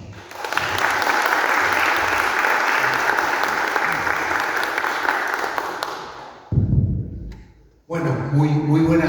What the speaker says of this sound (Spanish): Recibámonos con fuertes palmas.